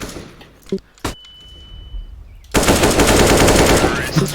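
CS:GO gunfire, a few sharp isolated shots at first followed by a loud sustained burst of rapid automatic fire close to the listener, with game sounds around it.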